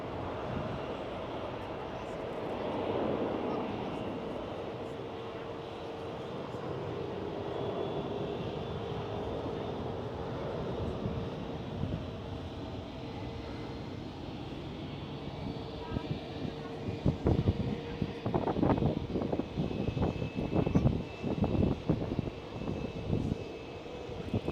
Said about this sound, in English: The KLM A330.